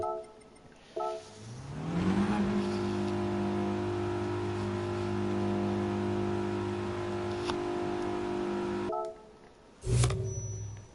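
A four-wheel-drive car in GT Sport revs hard from slightly too much throttle, its engine climbing and then holding a loud, steady drone for several seconds before it cuts off. A short burst follows near the end.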